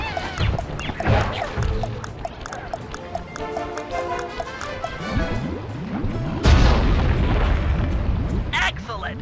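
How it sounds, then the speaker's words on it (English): Dynamite blast destroying a balloon anchor over Venice in Sly Cooper 3, a loud boom and crashing rumble among game action and busy sound effects. "Place the dynamite when you get near the anchor, or kaboom!"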